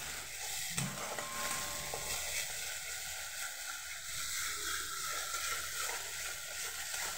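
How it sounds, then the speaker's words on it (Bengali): Spice paste for a flat bean vorta is stirred and fried in a pan, making a continuous hissing sizzle with soft scraping strokes and a single knock near the start. "এবার এটাকে আমি ভালো করে নাড়াচাড়া করব"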